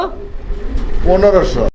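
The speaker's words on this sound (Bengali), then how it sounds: "এটা হচ്ছে আপনার ড্রাগন হুমার কবুতরের একটা জোড়া" Dragon Humar pigeons coo in a pair at a market pigeon farm, the low rounded calls loud and close in the second half, with crowd noise behind.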